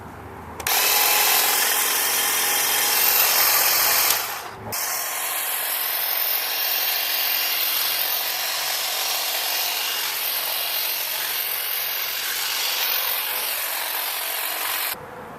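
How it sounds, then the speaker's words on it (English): Ryobi 40-volt lithium-ion electric hedge trimmer running close by, a steady high buzzing whir that briefly cuts out and restarts, then continues evenly for about ten seconds. "The hedge trimmer."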